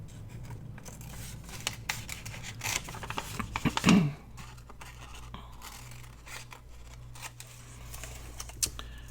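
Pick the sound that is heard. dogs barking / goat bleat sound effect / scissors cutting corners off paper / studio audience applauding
scissors cutting corners off paper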